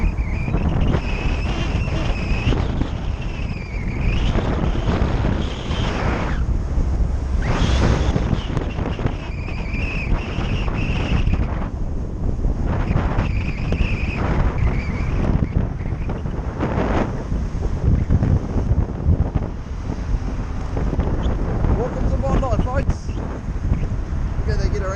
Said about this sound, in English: there's going to be heaps of wind